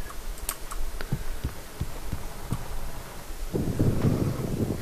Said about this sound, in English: Typewriter's in your room.